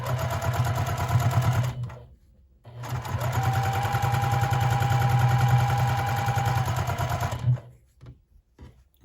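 Sewing machine stitching a seam in two long steady runs of rapid needle chatter, separated by a short pause and ending in quiet handling noises.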